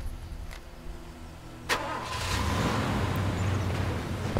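Vehicle engine in Far Cry 2 cranking briefly and catching, then settling into a close, steady idle with a low rumble after a quiet in-game ambience.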